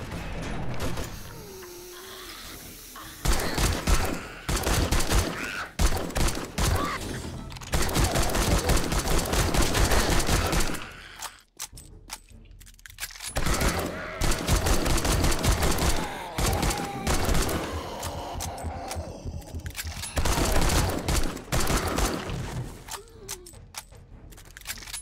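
A pipe machine gun fires in the video game 7 Days to Die with dense, rapid bursts of gunfire broken by short pauses and mechanical reload clatter, loud and continuous with no talking.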